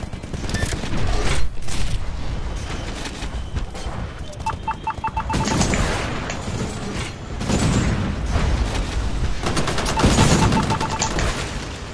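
Turret gunfire in the Titanfall video game: sustained bursts of rapid automatic shots and booming impacts, loud and continuous across the whole stretch, with mechanical clanks between volleys.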